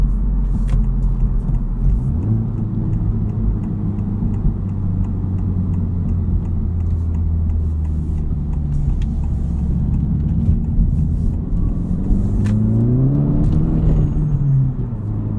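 A 2023 Honda Civic drives along with a steady low road rumble and engine drone heard from inside, the engine note rising and falling as it accelerates near the end.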